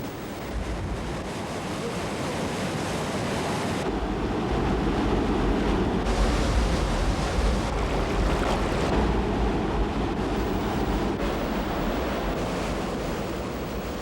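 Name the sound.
waterfall rushing water as lenok fish leap upstream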